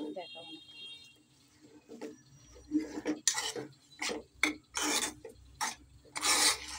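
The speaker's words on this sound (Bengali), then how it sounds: "এখন লাড়া দিচ্ছে" Cow and goat tripe being stirred in mustard oil with meat spices, giving repeated bursts of scraping and rasping against the pot, close and fairly loud, with faint talk between strokes.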